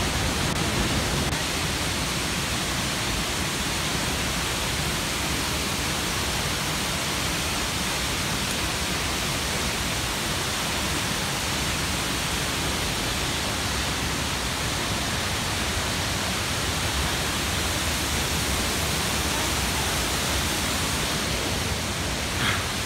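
Tzaráracua waterfall roars steadily a few metres away, a dense, unbroken broadband rush of falling water filling the whole stretch with no pauses or voices.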